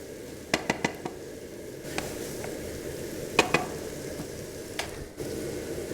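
Onions frying in a pan, a continuous soft sizzle broken by a few sharp taps and scrapes of a utensil against the pan.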